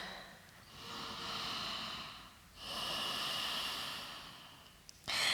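Slow, deep breaths during a vinyasa yoga flow, two long airy inhale-exhale swells close to the mic, each lasting a couple of seconds, followed by a brief sharper sniff-like burst at the end.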